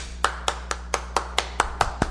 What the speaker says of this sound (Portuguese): E todo mundo bate palmas como sempre